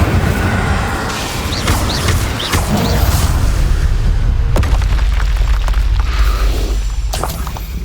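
Incendio fire spell cast in the video game Hogwarts Legacy, a loud burst of flame with booming, whooshing energy over a constant dense game soundscape, with a sharp crack near the middle.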